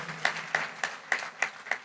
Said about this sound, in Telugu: నమ్మితే గట్టిగా చప్పట్లు కొట్టి దేవుని మహింపరచు